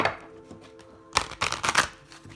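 Zodiac oracle cards being shuffled by hand, a quiet riffle at first and then a burst of three or four crisp, close flutters and slaps of the deck in quick succession.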